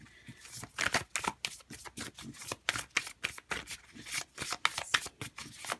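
Tarot cards are shuffled by hand in close, rhythmic riffles and slaps, each burst crisp and repeated steadily for several seconds, with no voices over them.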